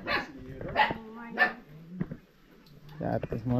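A dog barks several times in short sharp bursts, close by, with a few whimpering yips between, while people talk nearby at a house under construction.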